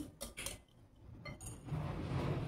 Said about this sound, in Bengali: টক দইটা খুব ভালো করে মিশিয়ে নিচ্ছি।